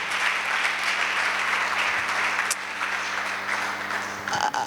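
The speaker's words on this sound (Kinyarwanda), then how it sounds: "Mwakomeye Imana amashyi menshi" A church congregation applauds during a sermon with a long, dense roar of clapping that stays loud and even. It thins briefly near the end.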